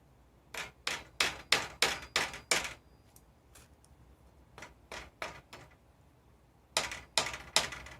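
Tiny nails being hammered into a tree branch trellis: bursts of quick, sharp taps in groups, a run of about eight, then a few scattered hits, then another cluster of four, close and fairly loud with quiet gaps between.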